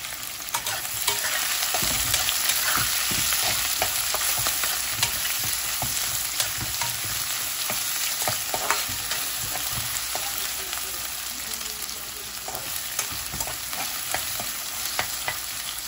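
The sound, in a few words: medium onions frying in oil until brown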